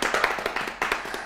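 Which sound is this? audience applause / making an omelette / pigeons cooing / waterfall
audience applause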